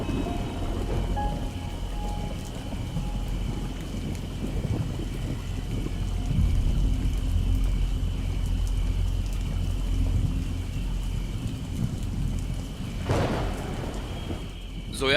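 Steady heavy rain pours onto surfaces with low rumbling thunder rolling underneath, a sharper crack of thunder near the end, and no talking.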